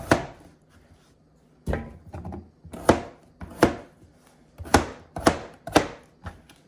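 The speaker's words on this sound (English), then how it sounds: "And then I just got to cut up the lettuce and tomato." Knife chopping lettuce and tomato on a cutting board for sweet chili chicken wraps, about ten sharp, close cuts in irregular bursts with short pauses between, no talking.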